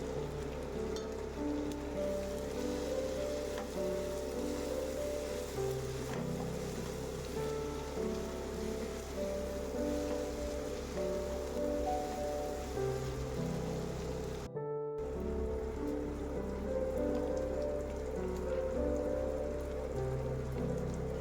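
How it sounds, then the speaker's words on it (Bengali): Spice masala with onions and tomato fries in oil for a spicy red crab curry, a steady, even sizzling hiss running throughout beneath soft background music, briefly cutting out midway. "ভালো করে এটাকে কষিয়ে নেবে মশলাটাকে এতে একটু টমেটো দিচ্ছি"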